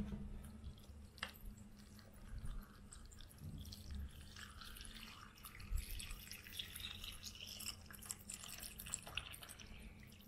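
Water poured from a container into the base of a self-heating spicy hot pot, a soft, quiet trickling and dripping that runs steadily for about ten seconds with no talk over it.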